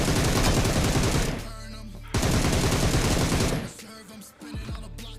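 Rapid automatic gunfire from a BGMI (PUBG) match as an enemy is taken down, two loud sustained bursts of fusillade separated by a short gap, with quieter game noise after.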